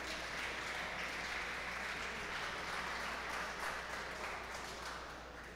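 At the weigh-in of a national spearfishing championship, the gathered crowd claps steadily after a catch of sixteen valid fish is announced, a soft, distant, even patter that fades slightly toward the end.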